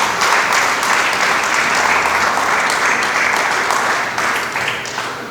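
A church congregation bursts into sustained applause, a thick, continuous wash of many clapping hands filling the room and easing slightly toward the end.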